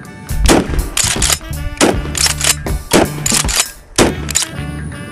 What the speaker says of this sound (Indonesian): Wow, yang ini shotgun.